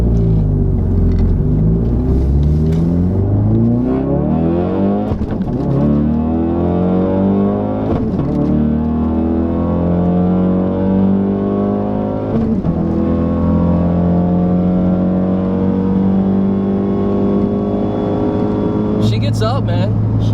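A modded full-bolt-on Ford Focus RS pulls hard through the gears, its engine note climbing in loud rising sweeps interrupted by sharp shift breaks, then revving up again, heard from inside the car with the engine dominating.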